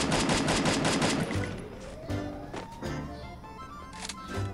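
A rapid burst of video game gunfire rattles off at the start, followed by a few scattered single shots and echoes, moderately loud.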